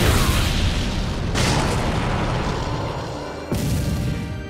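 A fire style jutsu attack in the Naruto Ultimate Ninja Storm 4 video game, a loud, roaring, blast-like rumble that keeps going, with two sharp surges of booming fire partway through.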